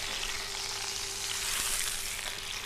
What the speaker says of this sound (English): we're gonna very carefully place this down and sear it nicely like this